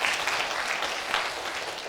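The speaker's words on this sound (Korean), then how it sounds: "우리 하나님께 큰 영광의 박수 올려드리도록 하겠습니다" Congregation clapping in unison inside a church during a Sunday worship service, a dense steady wash of applause filling the room for two seconds with no voices.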